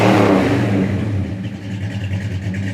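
A 1968 Ford Torino Fastback with dual exhaust revs loudly up close, then drops into a steady, throaty idle with a low rumbling pulse.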